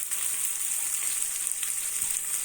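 Green chilies and fresh curry leaves frying with onions in hot oil, a steady, dense crackling sizzle that holds evenly close by without any break.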